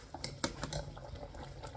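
Turkey stew simmering in a pot seasoned with Vegeta, giving a soft, continuous bubbling with scattered small pops and crackles, heard close up with no talking.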